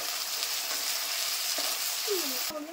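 Ginger paste fries in hot oil in a pan for a paneer gravy, a loud steady sizzle throughout with a few light scraping stirs near the end.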